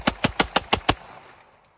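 Six quick gunshots from a Tec-9 pistol or replica gun fired outdoors, loud, evenly spaced and close, with a short decaying tail and a couple of faint clicks afterward.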